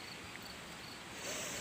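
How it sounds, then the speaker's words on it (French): Crickets chirp outdoors along a woodland walk near a small stream, a faint steady high-pitched trill under quiet background with no voices, growing slightly louder toward the end. "Pour l'instant, j'entends les grillons et les oiseaux."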